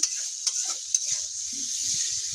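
Onions sautéing in a pan with a little water, a steady high hiss punctuated by a few sharp spoon-against-pan knocks and soft stirring scrapes, close and alone.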